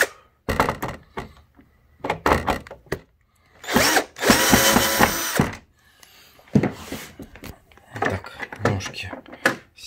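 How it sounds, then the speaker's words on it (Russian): Legs are unscrewed from an LG 32-inch smart TV stand during a repair, with bursts of a whirring screwdriver broken up by thunks, clatter and handling noise, close and loud; someone speaks between the bursts. "Так, ножки мы открутили."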